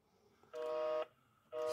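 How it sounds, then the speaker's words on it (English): A Hikvision IP PoE villa intercom main door station rings with two steady electronic tone bursts, each about half a second long and evenly spaced, clear and alone with no talking. "Main door station's ringing"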